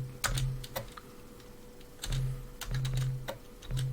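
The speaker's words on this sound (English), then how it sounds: "let's use the keyboard here" Computer keyboard keys tapped in short bursts while playing the Amiga game Star Control, a few clustered clicks with brief pauses between, close and fairly quiet over a low steady hum.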